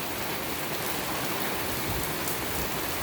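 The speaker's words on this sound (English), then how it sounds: "all this rain" Steady, even rain falling on surfaces, a continuous dense hiss with no breaks, fairly soft and heard alone.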